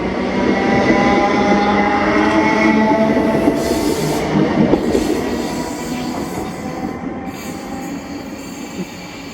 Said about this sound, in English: this is 1K33, the 1410 ScotRail service to Ayr from Glasgow Central